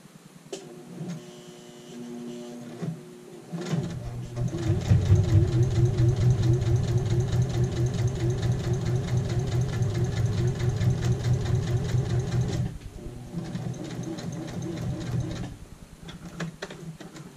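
A sewing machine edge stitching an apron pocket, starting with a few short bursts, then running in a steady rapid mechanical patter for several seconds before stopping, with small handling clicks around it.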